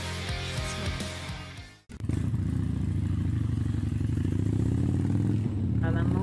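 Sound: motorcycle engine in crash footage

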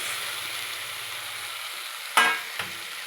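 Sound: tomato added to hot oil, frying chicken gravy curry

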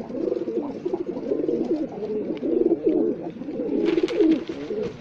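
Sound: pigeons cooing

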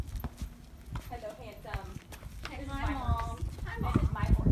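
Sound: horse hooves clip-clopping while walking

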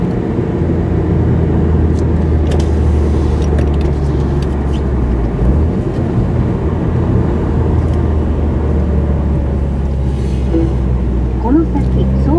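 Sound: Subaru Impreza intake sound with BLITZ SUS POWER air cleaner

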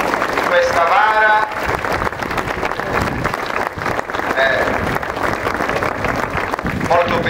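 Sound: crowd applause for statue bearers at festival procession

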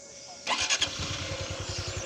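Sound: motorcycle engine starting

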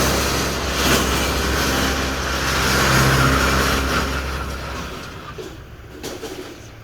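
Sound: Mitsubishi Cyclone L200 pickup truck engine

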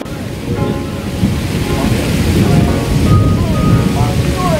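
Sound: heavy rain shower pouring down on a mountain

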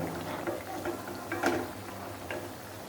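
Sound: biscuit pitha frying in oil

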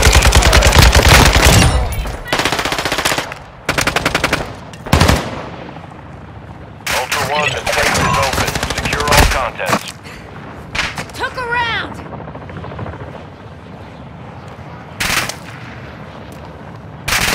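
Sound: gunfire in video game Warzone 2.0

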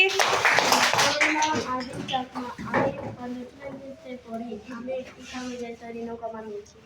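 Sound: classroom clapping for a student

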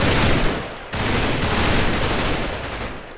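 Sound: machine gun fire in a video game

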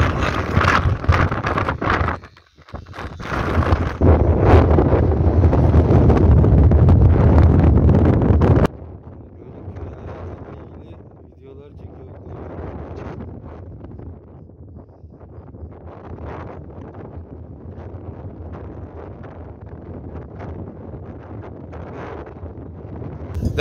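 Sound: strong wind blowing

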